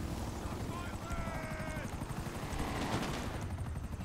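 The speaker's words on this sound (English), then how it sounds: "And this helicopter hit so many shots." A helicopter's rotor thrum with rapid bursts of gunfire over it, dense and loud, like a video game battle, from Grand Theft Auto.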